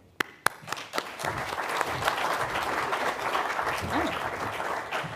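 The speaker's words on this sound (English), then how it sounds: "I didn't think I was going to get a clap" An audience at a Radix DeFi and Scrypto learning event in Lisbon breaks into applause after a few sharp early claps, swelling into steady, sustained clapping from a moderate-sized crowd, with a brief voice near the end.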